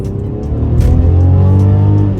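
A 2019 Mercedes-Benz C300 coupe pushed hard through a corner, its engine note climbing into a steady, loud drone with a strong low hum, heard up close and without talk.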